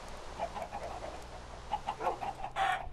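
A Minecraft chicken clucks in short, soft repeated calls with a sharper squawk at the end, faint and alone.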